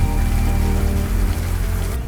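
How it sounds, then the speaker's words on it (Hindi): Heavy rain falling outdoors, a dense, loud and steady wash of drops on surfaces with no break, no voices. "तो बारिश हो रही है।"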